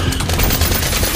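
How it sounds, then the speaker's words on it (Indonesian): Rapid gunfire bursts from a film scene inside a building where soldiers are searching rooms, a dense, loud volley of shots filling the whole moment with no talk. "mendengar suara tembakan tersebut, sontak mereka bergegas mendatangi"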